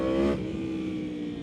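A Yamaha R1 sport motorcycle engine revs hard and loud, the pitch climbing briefly before settling into a steady droning roar.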